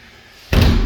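A house door from the hallway onto the patio moving with a sudden loud thud halfway through, followed by a broad, sustained rush of outdoor noise once it is open.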